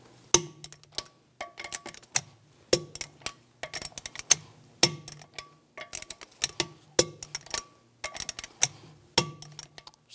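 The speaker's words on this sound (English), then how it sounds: "Now we're going to torque the lug studs to 96 foot-pounds in a cross pattern to tighten the wheel down" Repeated metallic clicks and clinks from a torque wrench tightening the lug studs on the front wheel of a 2001-2006 BMW 325Xi, close and fairly loud, in quick bursts at a steady pace with no talking.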